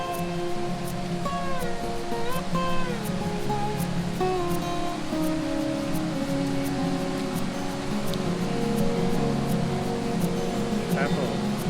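Water flows steadily at Ta Yai waterfall in Saraburi, a continuous broadband rush with people speaking over it at moderate level.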